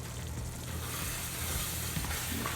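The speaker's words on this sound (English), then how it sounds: "I just want to fry it out a little bit to intensify the flavor." Spiced jollof sauce fries gently in a pot over low heat, giving a soft, continuous close sizzle with faint stirring and no voices.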